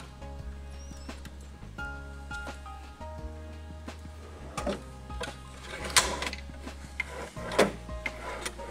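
A drawer on metal ball-bearing glides being rolled back and forth and pushed in, giving short rolling rumbles and clicks close by, followed by a few sharper knocks as it seats.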